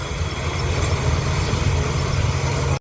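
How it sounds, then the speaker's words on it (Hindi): Steady low engine drone of a tractor heading out across a harvested wheat field to unload grain, continuous and fairly loud throughout with no pauses. "ट्रैक्टर भी लेके जा रहे हैं खाली करने के लिए।"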